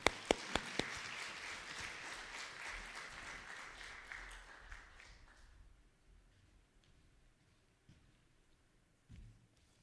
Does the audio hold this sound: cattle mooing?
no